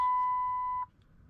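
A 2008 Dodge Caliber with its check engine light on gives a single clear, steady warning beep that holds for most of a second, then cuts off, leaving near silence.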